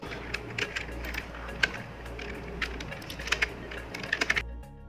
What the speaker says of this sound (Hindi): तो मैं अभी यहाँ उर्दू कीबोर्ड यूज़ कर रहा हूँ